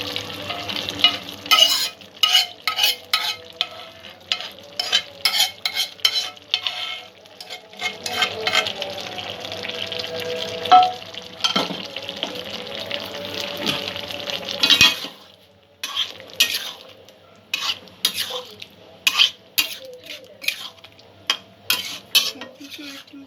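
A spoon stirs white sauce into chicken curry in a pan, repeated scraping and clanking strokes over a bubbling sizzle, close and loud, with a brief pause partway before the stirring resumes.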